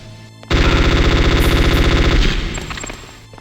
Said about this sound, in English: The FAMAS assault rifle offered raw stopping power, but at the cost of noise and visibility.